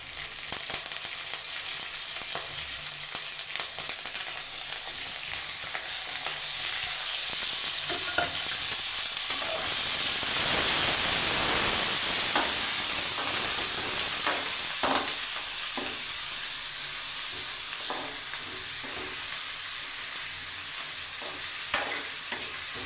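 Onions, tomatoes and curry leaves sizzle steadily in a hot pan while being stirred, a loud continuous frying hiss with occasional scraping and clinks of the spoon, no talking.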